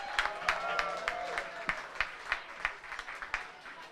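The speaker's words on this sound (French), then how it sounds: "Une bonne bain d'applaudissements, s'il vous plaît." Audience at a cabaret show at Cheval Blanc clapping, a moderate room of distinct, fairly sparse hand claps with uneven rhythm that thins toward the end, voices faintly underneath.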